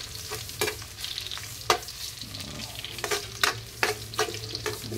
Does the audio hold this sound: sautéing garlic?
yes